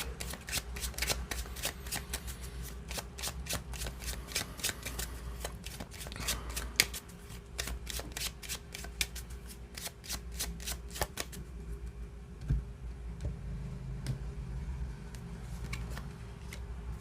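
A Cigano tarot deck is shuffled at close range, the cards riffling in quick rapid flutters for about eleven seconds before slowing into a few scattered taps and slides.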